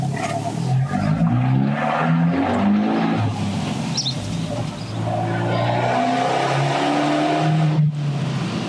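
An Abarth 124 Spider driven in sport mode with traction off revs and accelerates, its engine note rising through gears with tire squeal and a sharp lift-off near the end, loud and close, with a voice briefly heard.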